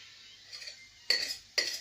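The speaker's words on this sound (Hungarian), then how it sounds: "Tehát lekapparom a tányérról, ami oda ragad azt, és a kezemről is lekaparhatom a késsel" A knife scrapes sticky gluten-free potato dough off a plate in two short, sharp strokes, close by and quiet otherwise.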